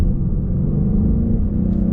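A 2022 5.0 V8 with a 10-speed automatic pulls hard from a 40 mph roll, its deep, steady engine rumble loud and continuous inside the car for two seconds with no voices.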